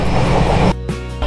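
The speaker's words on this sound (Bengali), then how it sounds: "ট্রেন ভালোই চলছে, প্রথমে একটু দাঁড়িয়েছিল, তারপর আর দাঁড়ায়নি, দারুণ স্পিড নিয়ে নিয়েছে।" Low rumble of an AC 3-tier passenger train running at speed, steady and close, with a brief dip in the noise partway through before the rumble returns.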